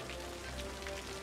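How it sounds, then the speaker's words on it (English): Steady rain falling in the city-building game Cities: Skylines, a continuous soft hiss of drops spread evenly across the short stretch with a low background hum and no talking. "I'm trying to wait till the rain goes away."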